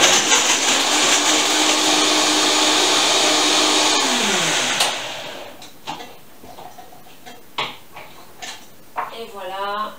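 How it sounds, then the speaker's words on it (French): Blender whirring at high speed as it mixes a raw vegan banana, coconut and cacao smoothie, a loud steady motor drone that winds down after about five seconds, followed by a few clinks and a voice speaking. "vous mixez jusqu'à consistance complètement lisse, veloutée"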